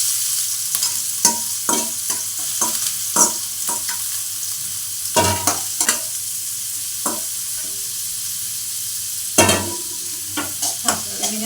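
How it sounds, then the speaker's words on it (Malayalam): Garlic, ginger and shallots fry in a pan with a steady, close sizzle, broken by repeated sharp scrapes and clicks of stirring. "വെളുത്തുള്ളിയും ഇഞ്ചിയും കറിയുള്ളിയൊക്കെ ഇട്ട്"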